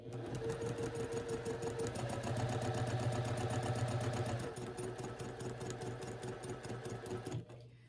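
A sewing machine chain pieces a quilt block, its needle hammering in a fast, even rhythm with a whirring motor hum, close and continuous, shifting slightly in pitch midway before stopping.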